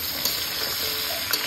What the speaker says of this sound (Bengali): কাঁচকলা আলু ভাজি চলছে